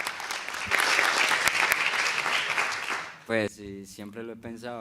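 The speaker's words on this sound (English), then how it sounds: "A round of applause for her." A round of applause breaks out at a film press conference, dense steady clapping from the audience for about three seconds before it stops and a person starts speaking close to the microphone.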